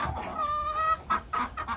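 Native country hens clucking up close, a sustained clucking call followed by several short clucks in quick succession, with no talk.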